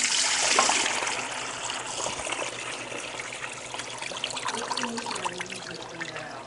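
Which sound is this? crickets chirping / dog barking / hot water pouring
hot water pouring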